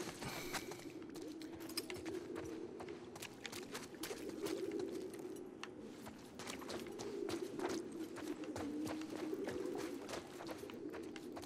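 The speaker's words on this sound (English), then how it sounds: "Sounds like pigeons." Pigeons cooing in The Last of Us Part II, low soft repeated coos from several birds rising and falling throughout, mixed with scattered sharp ticks and scuffs of footsteps, fairly quiet overall.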